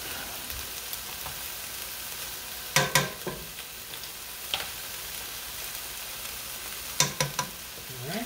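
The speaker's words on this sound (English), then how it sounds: "Flour's in. Going to give that a stir." Beef stroganoff frying in a pan as flour is stirred in, a steady sizzle running throughout with several sharp bursts of spoon-scraping and clatter near the middle and end.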